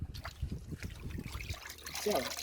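Water trickles and drips from fish in short uneven bursts, fairly quiet, with a brief splashy pour near the end.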